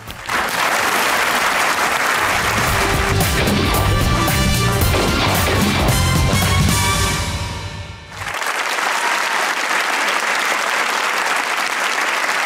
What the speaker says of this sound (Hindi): तो मुझे लड़कों के लिए वैसे तालियां।